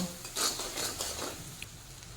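Turmeric and chilli powder being stirred in a pan over a low flame for a fish curry: a few soft scraping strokes with light clinks against the pan, close and fairly quiet.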